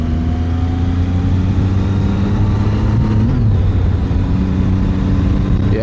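A Zontes 703 Adventure triple-cylinder motorcycle engine pulls steadily under acceleration toward 60 mph, a loud continuous drone with rising pitch and a brief dip like a gear change midway.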